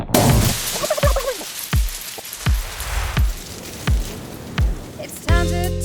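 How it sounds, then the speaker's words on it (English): A turkey gobbles loudly and close by in a series of separate rattling calls, followed by a brief musical tone at the end. "they make gobble gobble sounds"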